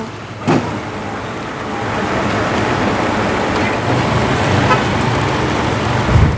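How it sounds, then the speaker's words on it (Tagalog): Heavy typhoon rain roars steadily with strong gusty wind, while traffic noise and a passing car hum underneath. "malakas na ang ulan, malakas pa ang hangin"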